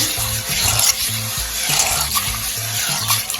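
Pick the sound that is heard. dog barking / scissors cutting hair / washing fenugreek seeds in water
washing fenugreek seeds in water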